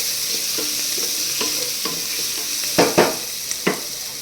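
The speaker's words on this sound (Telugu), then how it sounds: "నేను చూడండి మొత్తం తిప్పుతున్నాను, ఎందుకంటే హై ఫ్లేమ్లో ఉంది కదా, ఏది మాడకుండా ఉండడానికి ఎక్కువ తిప్పేస్తున్నాను అన్నమాట." Ingredients for fried rice are stirred in a pan over high flame, a close, constant sizzle with soft scraping strokes, then a few sharper metallic knocks of the utensil on the pan near the end.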